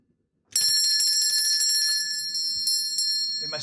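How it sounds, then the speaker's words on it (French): A small bell rings suddenly after a moment of silence, its bright metallic tone shimmering and trilling continuously, loud and close. "Et ma sonnette ne fait pas assez de bruit."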